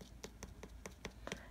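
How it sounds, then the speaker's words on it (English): Light clicks from the end of a nail brush tapping an acrylic sculptured nail made with odorless liquid monomer, a steady series of about eight quiet, sharp ticks spaced evenly, close up and faint. "you tap it, and see if it makes a clicking sound"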